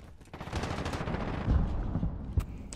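Rapid shotgun and automatic gunfire in Call of Duty: Modern Warfare multiplayer, a dense continuous volley of close, loud shots with heavier blasts near the end and no talking.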